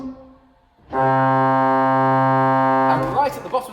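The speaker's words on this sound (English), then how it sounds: "Here's a 16-foot stop." A chapel organ 16-foot stop played on the pedal board: after a faint lower tone, a deep, loud, sustained pipe note swells in and holds steady for about two seconds, then fades as a voice starts speaking.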